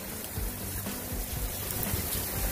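Steady rain falls outdoors near a Weber kettle grill where ribs are cooking, a continuous even hiss with scattered drops and low rumble throughout, no voices.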